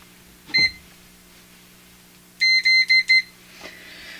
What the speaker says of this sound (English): In fact, I've got a beeper setting here.